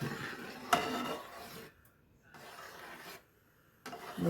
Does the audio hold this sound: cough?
no